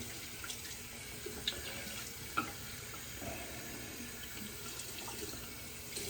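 Cold water runs from a bathroom tap onto a towel during a shave, a steady quiet stream with a couple of small clinks, close by and without talk.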